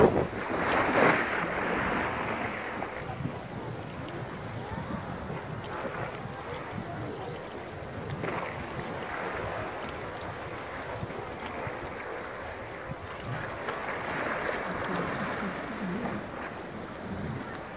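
A sailboat under way at sea near Tortola in the British Virgin Islands, with steady rushing wind, water wash against the hull and heavy wind buffeting on the microphone throughout.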